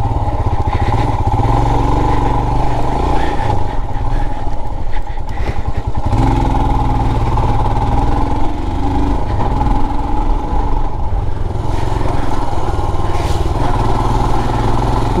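Royal Enfield Himalayan BS6 motorcycle idling outdoors, a steady, loud, even engine throb running unbroken and close throughout.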